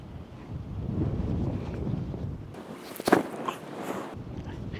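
Strong wind on a golf course buffets and rumbles across the microphone in uneven gusts, with a brief sharp knock and rustle partway through.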